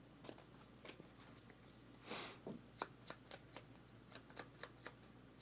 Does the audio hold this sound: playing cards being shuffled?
yes